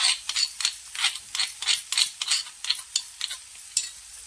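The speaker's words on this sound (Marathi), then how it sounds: "आणि चांगलं परतून परतून घ्यायचं" Ground spices and dried bombil fish sauté in a hot pan, with a bright, gritty sizzle broken by quick repeated scraping strokes of stirring, close and fairly loud.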